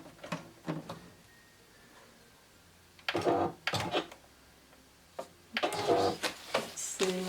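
A sewing machine working appliqué stitches in short separate bursts, a brief run near the start and two longer, louder runs later, with quiet handling gaps between them.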